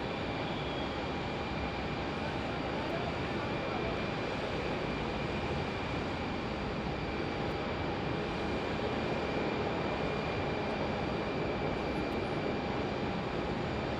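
A United Airlines airliner at Phoenix Sky Harbor International Airport gives off a faint, steady distant engine rumble with a thin high whine, continuous and unchanging, with no one talking.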